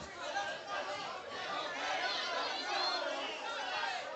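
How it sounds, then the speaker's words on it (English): A crowd at a Golden Gloves boxing event chatters steadily, a dense wash of overlapping voices filling the room at constant loudness. "This crowd is into it, man."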